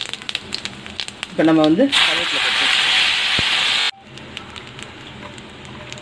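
Mustard and cumin seeds spluttering in hot oil while tempering for a yam fry, a loud, dense sizzling burst lasting about two seconds that cuts off abruptly, with a voice speaking before and around it.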